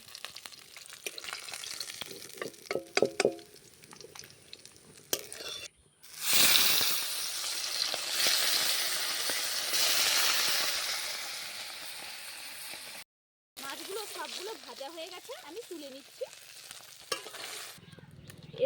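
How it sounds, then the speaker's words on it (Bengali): Lentil dumplings fry in hot oil in a pan, with loud stretches of hissing sizzle broken by clicks and scraping stirs, a few brief silent gaps and a steadier bubbling toward the end. "এরপর সেই তেলেই আমি বড়িগুলো ভেজে নিচ্ছি"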